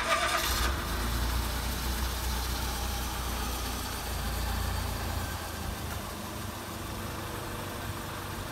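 A smart city coupe engine cranking briefly and then running with a low steady rumble, close by and moderately loud.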